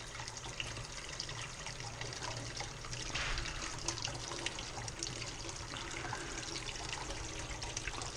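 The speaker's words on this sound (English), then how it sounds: "Get some hot water going here." Hot water running steadily from a tap in a guest house far from the water heater, a constant rushing stream that swells slightly around the middle, with no talking.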